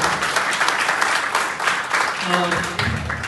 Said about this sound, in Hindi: तो जो हमारे पुराने लोग हैं वो नए लोगों का स्वागत करें तालियों से।